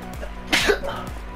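A single sharp sneeze bursts out briefly, close and fairly loud, with quiet game sounds around it and no speech.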